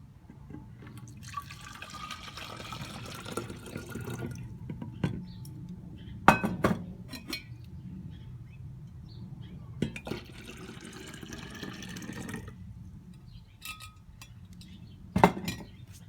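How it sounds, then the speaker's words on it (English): Water is poured from cups back into a container during an ultralight backpacking stove test, heard as bursts of splashing and trickling between quiet gaps, with clinks of the cups now and then. "I'm going to pour the water of each cup back into the container so you can see."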